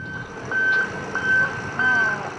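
A truck's reversing alarm beeps three times in a steady rhythm, close and clear over low outdoor rumble; the truck is loaded with about 25 tonnes of grapevine stocks and soil.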